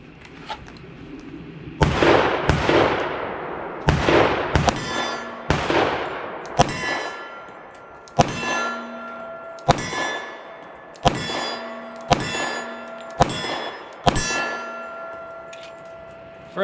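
A TISAS ZIG M45 1911 pistol firing at hanging steel targets about 12 yards away, a string of about a dozen sharp shots, each followed by a ringing metallic clang, loud and evenly spaced.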